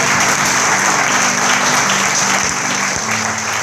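A church congregation claps steadily throughout, loud and dense, with a sustained low tonal hum from music or an organ underneath.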